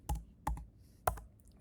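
Three sharp, quiet keystrokes on a computer keyboard while writing Python code, spaced irregularly and close by, with faint clicks between.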